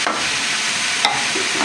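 Ground tomatoes sizzle in a hot pan with fried chicken for aloo chicken while a spoon stirs, giving a steady, loud frying hiss with brief scraping strokes, no talk.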